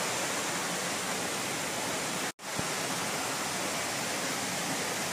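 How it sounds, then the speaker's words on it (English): A water feature at a temple in Chiang Rai flows in a loud, dense, unbroken rush, briefly cut off once near the middle before resuming. "You would love to have that water feature."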